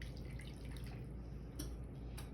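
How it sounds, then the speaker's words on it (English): A cup of apple juice poured into a pot of strained sauerkraut for ribs: a soft, continuous close liquid pour with light splashing and a few drips, no talking. "You go ahead and you add your cup of apple juice."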